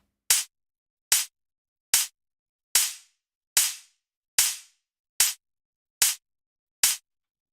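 Nine sharp, dry gated snare drum hits at an even pace, each cut off abruptly into silence with no ring.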